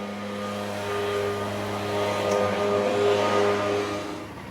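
Steady mechanical drone of a street sweeper, with low tonal hum and broadband brushing noise, moderately loud and continuous throughout.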